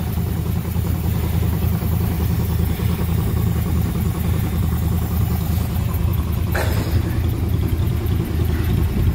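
A 1969 Ford C700 truck with a 330ci V8 runs after a cold start, a steady low rumbling idle close by with constant noise, broken once by a brief sharp click.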